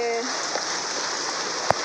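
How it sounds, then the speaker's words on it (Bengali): Rain falls on garden plants and flowers in a continuous, even patter. A brief tonal sound opens the passage and a single sharper drop-like hit lands near the end. "আমার মোবাইল একদম ভিজে গেছে, বৃষ্টি হচ্ছে"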